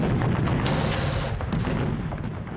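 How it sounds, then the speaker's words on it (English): Withering gunfire and artillery meeting landing craft as they approach a beach in a wartime landing; dense, loud continuous bursts and booms blending into a rumbling roar with no pauses. "As landing craft approached the main beach, they were met by withering fire"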